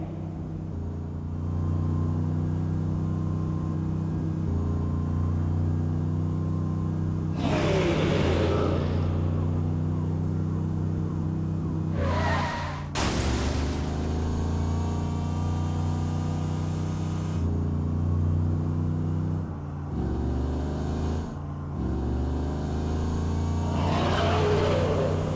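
Cars drive in a Saints Row The Third cutscene, a steady engine drone with revving surges and a few whooshing passes, loud and continuous for about twenty-five seconds.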